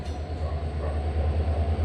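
A heavy diesel train, a WDP 4B locomotive hauling the 12482 Shri Ganganagar–Delhi Intercity, rumbles steadily nearby as it arrives at platform 1, with a deep droning engine and rolling wagons, no voices.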